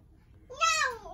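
A single short cat meow rises and falls, fairly close and moderately loud, standing alone against a quiet room.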